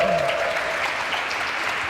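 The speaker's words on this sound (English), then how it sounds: "let's make big applause" A crowd applauds steadily at a startup idea-pitching event at Kultuurikatel, a dense wash of many hands clapping at once, with some cheering mixed in.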